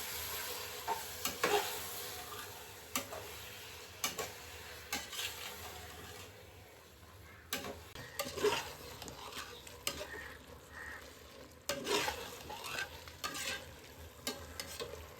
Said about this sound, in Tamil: நம்ம போட்ட தக்காளி, வெஜிடபிள்ஸ் எல்லாமே வந்து நல்லா வதங்கணும் மசாலா.